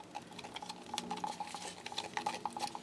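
Resin mixture stirred in a cup, a quiet run of rhythmic scraping and light clinking strokes, close and continuous with no talk.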